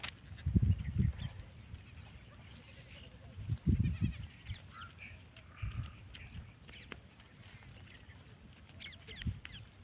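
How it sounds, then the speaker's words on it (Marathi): Goats grazing outdoors on a farm let out a few bleats, heard as moderately close bursts spaced several seconds apart over quiet background. "आणि इकडे शेळ्या चरत आहेत."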